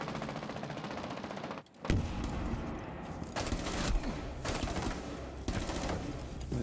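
Rapid automatic gunfire in a Ubisoft video game, repeated bursts after a brief silent gap, loud and close throughout.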